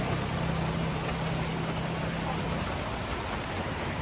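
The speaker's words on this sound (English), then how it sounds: "I was just going to a grocery store and it started to rain" Steady rain falling outdoors near a grocery store, a dense even wash of patter that stays constant throughout, with a faint low hum underneath.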